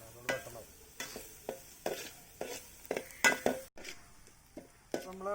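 Onions sauté with salt in a pan over hot embers for kanthari chicken, a faint sizzle broken by about eight rhythmic metal scrapes as a utensil stirs them.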